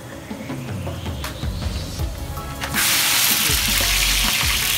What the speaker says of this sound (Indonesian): Kita tumis sampai dia kering.